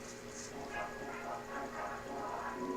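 Dog in the video game Undertale: a few short, high yapping barks near the start, then a softer run of game sounds and music, with no talking.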